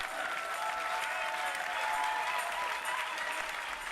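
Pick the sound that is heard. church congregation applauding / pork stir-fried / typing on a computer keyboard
church congregation applauding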